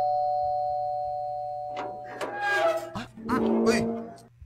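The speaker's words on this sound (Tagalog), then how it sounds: "Kadit lang na may doorbell." A doorbell rings with a sustained electronic tone that fades out, followed by people talking close by.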